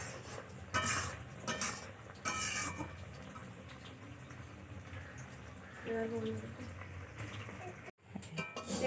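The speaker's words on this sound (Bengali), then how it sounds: "বারবার নাড়তে থাকতে হবে কারণ বারবার না নাড়লে নিচটা পুড়ে যাবে" Ash gourd murabba stirred in a pot: intermittent metallic clinks and scraping of a spoon against the pot, close and fairly quiet over a low background hiss.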